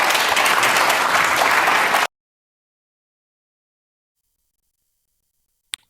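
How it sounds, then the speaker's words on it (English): An audience breaks into a short burst of dense, loud applause lasting about two seconds, then cuts off abruptly into silence, broken near the end by a single faint click. "Got a round of applause"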